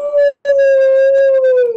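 A man imitates a dog howl with his voice. It is one loud, sustained, wavering tone, cut by a brief pause near the start, with no other sound.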